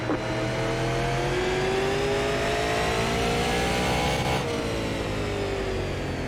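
Several high-powered race cars lap the Bullring short track in iRacing. Engines rev loudly and steadily with rising and falling pitch as the cars accelerate and pass, a dense, continuous roar with no talking.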